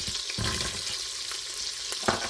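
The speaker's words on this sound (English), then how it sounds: "the onion, and I'm going to let this saute for just a minute" Celery and onion frying in melted fat in a pan give a steady, close sizzle with a few faint stirring scrapes near the end, and no voices.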